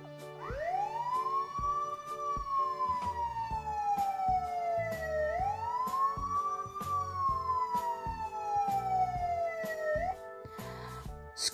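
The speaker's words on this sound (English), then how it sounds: "example of loud sounds like ambulance siren" Ambulance siren wailing loudly and continuously, its pitch sweeping slowly up then down in two long cycles, alone with no talk, steady and close.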